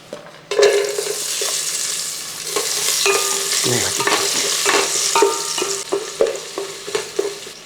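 Crushed garlic and chopped ginger hit hot coconut oil in a pan with a sharp burst of sizzling, then keep frying loudly as a spoon stirs and knocks against the pan in repeated close scrapes.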